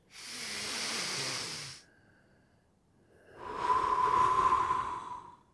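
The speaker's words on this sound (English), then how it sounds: "deep inhale and exhale through the nose" Slow, deep breaths through the nose, a long soft exhale followed after a pause by an equally long, airy inhale, close and quiet with no talking.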